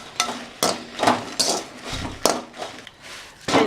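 A utensil scrapes and clanks against a hot kadai (wok) in quick, uneven strokes, about eight close, sharp contacts with short gaps between them.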